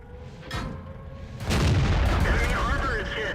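Tank gun fire in World of Tanks from an FV304: a sharp report near 0.5 s, then a louder booming shot around 1.5 s that rolls on as a sustained rumble with battle noise.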